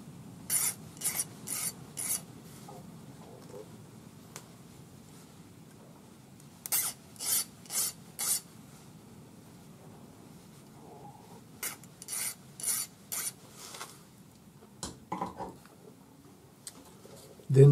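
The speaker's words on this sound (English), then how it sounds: "Just hold the piece in your fingers and file the end flat." Short bursts of hand filing on the end of a small metal piece for square earrings, rasping strokes in quick groups of three or four, separated by pauses over a quiet background hum.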